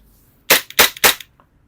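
A WE G18 gas blowback airsoft pistol fires three loud, sharp shots close up in a quick burst, with a short pause between each crack. There is quiet before and after.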